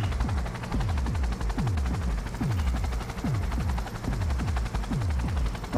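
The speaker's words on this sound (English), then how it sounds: "I'm in an airplane right now." An aircraft flies in the video game Cyberpunk 2077, giving a steady, loud run of rhythmic chopping thumps over a dense engine roar, with no voices.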